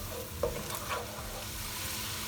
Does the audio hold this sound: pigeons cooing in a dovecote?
no